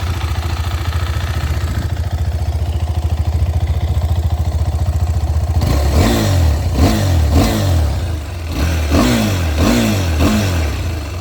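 KTM Adventure 390 single-cylinder motorcycle engine idling steadily, then revved hard in a series of sharp, rising-and-falling throttle blips, loud and close, with no talk over it.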